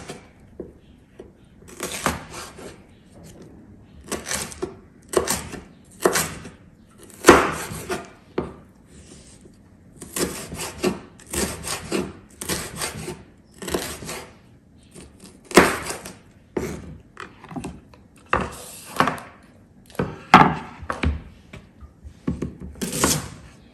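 Knife slicing a chili into thin strips on a wooden cutting board for a homemade Mexican dish, a long run of crisp, close chopping taps in uneven bursts with brief pauses between.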